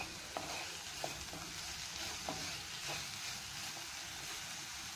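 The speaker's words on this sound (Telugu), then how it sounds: "నేను 1-2 స్పూన్లు నూనె వేసి ఫ్రై చేస్తున్నాను" Beetroot pieces frying in a spoon or two of oil in a pan, a steady soft sizzle with a few sharp scrapes of stirring scattered through, close and alone without voices.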